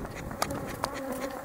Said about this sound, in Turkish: Arı çok coştu la.